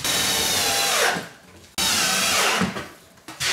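A power screwdriver drives a screw into plasterboard at a window reveal, two loud close whirring bursts, each winding down as the screw seats, with a brief click between them.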